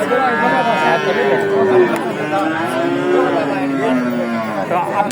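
Friesian cattle mooing loudly and repeatedly at close range, long drawn-out lowing calls overlapping, with people talking in the background of a busy livestock market.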